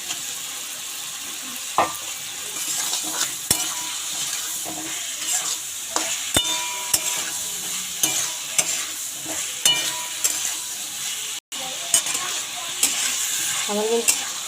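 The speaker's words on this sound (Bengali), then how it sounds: "এবার আমি ভেজে রাখা আলুগুলো দিয়ে দেবো।" Previously fried potatoes go into a pan for a pabda fish curry and are stirred. Oil sizzles continuously while a spatula scrapes and clinks at irregular intervals, with one brief break in the sound.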